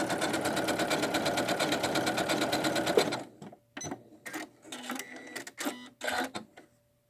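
A Janome Skyline S7 sewing machine runs steadily for about three seconds while stitching a decorative pattern, a close, dense rhythmic whir, then stops, leaving scattered small handling clicks and taps.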